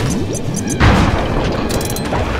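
A bomb goes off in Sly 3: Honor Among Thieves, a single loud booming blast that cuts through steady game music and effects, followed shortly by another sharp burst.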